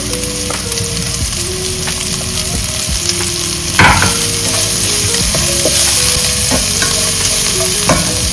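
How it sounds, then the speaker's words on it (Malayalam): Two chopped onions hitting a hot pan for fish cutlets, a loud steady sizzle of frying with scraping stirs and occasional clanks of the spoon against the pan, no voices. "അരിഞ്ഞു വെച്ചിരിക്കുന്ന 2 സവോള അരിഞ്ഞു വെച്ചിരിക്കുന്നത് അങ്ങിട്ട് കൊടുക്കുക."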